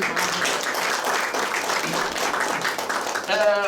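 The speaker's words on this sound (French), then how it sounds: "Donc on applaudit." Audience at a cultural association exhibition event applauds in a steady, moderately loud wash of clapping, with a voice speaking briefly at the end.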